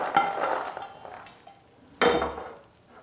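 Roasted makhana (fox nuts) tipped from a pan onto a plate, giving two bursts of light clattering and clinking against the dish, close and fairly quiet, with no talking.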